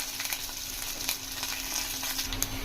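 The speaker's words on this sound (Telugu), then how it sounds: "ఆయిల్ బాగా హీట్ అయిన తర్వాత ఆవాలు, జీలకర్ర, పచ్చెనగపప్పు 1 స్పూన్ వేసుకోండి." Mustard seeds, cumin, chana dal and curry leaves frying in hot oil for an egg pulusu tempering, a dense continuous sizzle with crackles heard up close, without any talking.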